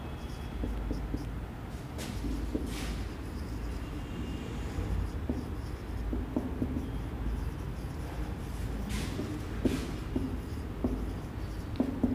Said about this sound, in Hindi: अब मैं इंग्लिश में लिख देता हूँ